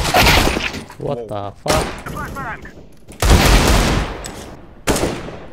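Gunfire in Counter-Strike: several loud, sharp bursts of rapid shots in quick succession, close and punchy, with a player's voice talking and exclaiming between volleys.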